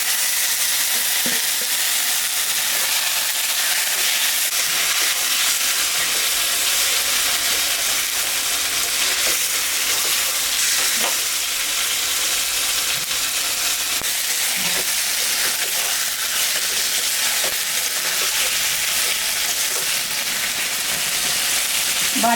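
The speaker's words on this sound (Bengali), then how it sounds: "এখন আমি এই যে মাংসটা ম্যারিনেট করে রেখেছিলাম, এটা এখন দিয়ে দেব" Marinated chicken fries in a hot pan with a loud, continuous sizzling hiss, and occasional stirring scrapes break through the steady frying noise.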